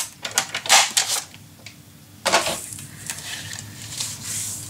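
Scissors snip paper for a handmade mini album in a few quick, close bursts, with a pause before another crisp run of cuts.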